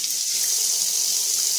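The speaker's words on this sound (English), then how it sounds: "running it under cool water" Cool tap water runs steadily into a sink over a peeled boiled egg, a continuous close hiss of flowing water with no talking.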